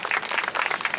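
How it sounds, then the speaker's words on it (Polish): An audience applauds a youth brass band at a festival, with dense, steady clapping filling the short moment at even loudness. "A więc jeszcze raz wielkie brawa!"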